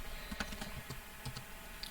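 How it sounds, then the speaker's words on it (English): Quiet keystrokes tap out on a computer keyboard in an irregular run of light clicks. The typing is soft and fairly close, with a faint background hiss and no voices. "now I'm going to type"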